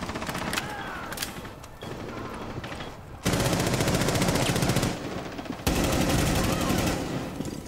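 Rapid automatic gunfire in a tactical shooter match, several loud sustained bursts near the listener with short gaps between them.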